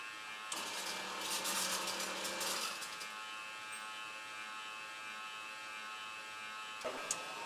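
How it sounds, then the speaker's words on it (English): Fan motor starting in an MPL300 drying chamber, a close electric whir and buzz that rises in a busy burst, then settles into a steady hum, with a brief click and surge near the end. "The fan is starting."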